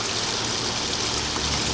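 Hot water from a camping shower pours in a steady, close hiss like a running tap or light rain, unbroken and even throughout with no speech.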